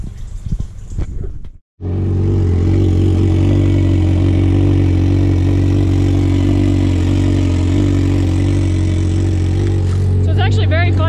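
A two-stroke 550 snowmobile engine warms up, starting after a brief silence and then idling loud and steady with a rich low drone close by, a voice audible over it at the end.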